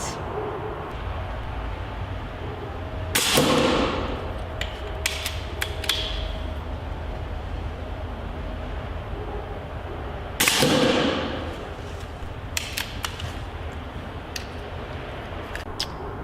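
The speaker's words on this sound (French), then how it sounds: "Voici nos deux tirs d'essai à une distance d'un peu plus de 30 mètres." A Benjamin Armada air rifle fires two test shots at just over 30 metres outdoors, each a sharp, loud crack with a brief ringing tail, spaced about seven seconds apart, with faint clicks and handling noises between them.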